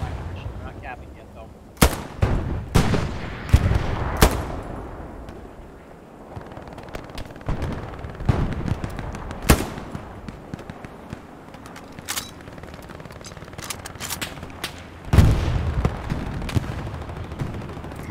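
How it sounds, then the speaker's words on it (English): Gunfire in the World War II shooter Hell Let Loose: sharp rifle cracks and bursts at irregular intervals, some loud and near, others distant, over a low battlefield rumble. "I'm taking fire"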